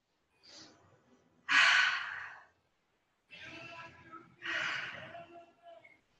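Deep breaths during a yoga flow: two slow cycles, each a soft inhale followed by a louder, longer exhale, close to the microphone with no talking.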